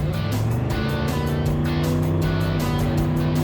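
A Ford Thunderbird driving on a winter road, a loud engine drone heard from inside with rhythmic pulsing as it pulls through a gear shift, continuous and close with no speech.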